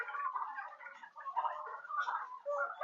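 Muscovy (Barbary) ducks on a Thai duck farm give soft, breathy hissing calls in a near, continuous chatter, with no talk over them.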